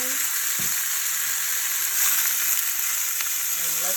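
Stewing beef sizzling in hot bacon fat in a pan, a loud, steady, close frying hiss that runs unbroken, with a few faint clicks and stirring touches.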